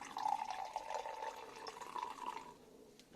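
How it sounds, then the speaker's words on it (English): Cloudy, hazy still cider from Ross on Wye pours into a glass as a soft continuous trickle, fairly faint and close, tapering off toward the end with a small splash or clink. "Let's pour it out into this Godkins glass."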